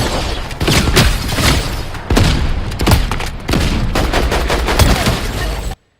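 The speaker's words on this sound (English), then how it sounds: "I just pull out the shockwave on them, shoot them, run back, shoot them again" Loud, close gunfire from a shockwave-and-shoot sequence in Fortnite ranked play (Chapter 7, Season 1) comes as several sharp blasts and bursts, with dense shots spread across the stretch before an abrupt cutoff.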